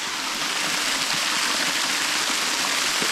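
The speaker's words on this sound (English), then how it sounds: "getting down this treacherous bloody waterfall" A waterfall and stream rush steadily beneath a waterfall in the wild, a dense, continuous roar of falling water with no voices.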